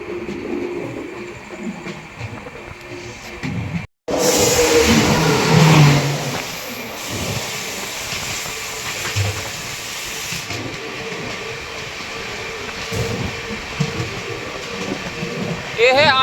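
An Amrit Bharat Express passenger train rounding a curve near a railway yard, heard as a loud, rushing rumble with rhythmic wheel clatter that surges after a brief cut and then holds steady.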